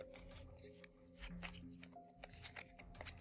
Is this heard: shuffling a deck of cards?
yes